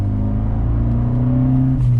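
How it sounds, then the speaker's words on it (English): A 2020 Fiat 124 Spider Abarth with a 1.4-liter turbo engine and the optional Record Monza exhaust, driven in normal mode, accelerates with a steady, loud, close engine drone whose pitch climbs before a brief shift near the end. "this car has the optional record Monza exhaust, so it is going to be quite a bit louder than the standard Abarth"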